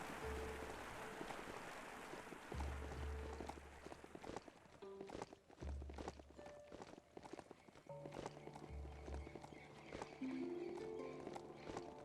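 Horse hooves clip-clop in the video game Biomutant, a loose repeated trotting beat running across the whole stretch beneath low game ambience and occasional thuds.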